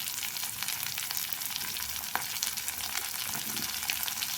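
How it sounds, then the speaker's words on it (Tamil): Carrots and beans sautéing in hot oil for a vegetable semiya lunch-box dish, a steady close sizzle and crackle running throughout with no voices. "இது நல்லா எண்ணெயிலேயே வதங்கிட்டோம்"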